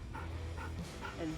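A Belgian Malinois dog makes soft, repeated whimpering yelps, about three short bursts close by over a low background murmur.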